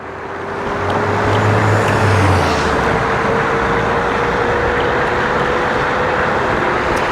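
Steady road traffic and wind rush heard while riding an Emove Cruiser S electric scooter in traffic at around 26 to 28 mph, a loud continuous broadband roar with a faint low engine hum passing early on.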